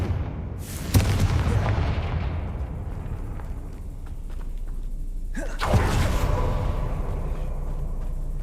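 Confringo spell explosions in the video game Hogwarts Legacy, two heavy booming blasts with long rumbling tails over a low continuous background.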